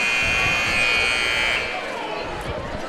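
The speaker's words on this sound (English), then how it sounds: "The buzzer sounds." At a high school basketball game between Decatur Central and Plainfield, a loud, sustained buzzer blares for about a second and a half in the gym, then crowd murmur and talk continue.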